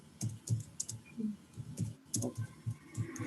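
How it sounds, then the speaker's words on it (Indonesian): Quick, irregular clicks of fingers typing on a computer keyboard, close and crisp, with short pauses between bursts of keystrokes. "Sok silakan ngetik dulu aja, ngetik dulu."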